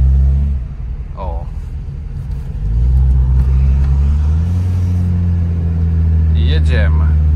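A Ford Fiesta CTX CVT with a freshly repaired gearbox revs with the gas pedal floored while pulling away, a loud steady low engine drone that swells partway through and holds, with brief vocal sounds over it.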